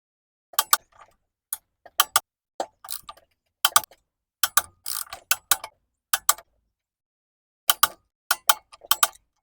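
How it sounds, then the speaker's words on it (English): Torque wrench ratcheting bolts down on a Briggs and Stratton small engine in a crisscross pattern, crisp close clicks in short clusters separated by quiet pauses. "Got my torque wrench set to 25 foot-pounds."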